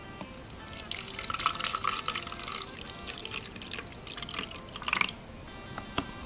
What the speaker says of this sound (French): vous mettez donc de l'eau.